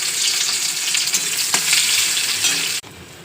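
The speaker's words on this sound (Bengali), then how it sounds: "পেঁয়াজ দিয়ে দিচ্ছি, পেঁয়াজ কুচি" Chopped onion hits hot oil in a kadai and fries with a loud, steady hiss and crackle, stirred now and then, before the sizzle suddenly drops away near the end.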